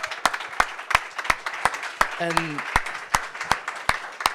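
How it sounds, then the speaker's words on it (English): Audience applause at a hackathon finalist presentation, with sharp, regular claps and a voice speaking briefly over them. "So a round of applause for all of you for making this happen."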